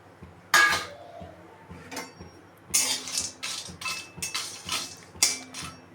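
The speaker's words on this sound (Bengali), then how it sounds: "একটু নেড়ে চেড়ে গরম করে নেব জাস্ট।" Whole garam masala being stirred and dry-heated in a pan for homemade spice mix, giving sharp metallic clinks and scrapes of a utensil against the pan in irregular bursts, fairly close, with quiet gaps between.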